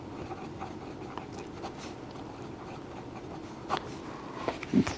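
Pen scratching across paper while a math solution is written out, soft irregular strokes and taps, faint and close, with a couple of slightly louder marks near the end.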